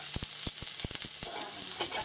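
Onions frying in a pan for a low-carb tuna bolognese, with a steady sizzle broken by sharp clacks and scrapes of a large wooden cooking spoon stirring them, close and moderately loud.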